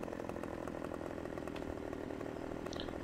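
A chainsaw in Farming Simulator 15 bucks a felled tree, its engine droning loud and steady without a break for the whole stretch.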